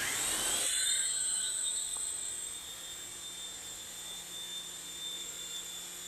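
A small Eachine Tracker H101 toy RC helicopter hovers close by, its tiny rotors and motor making a steady high-pitched whine that starts loud and settles to an even, constant buzz with no talking.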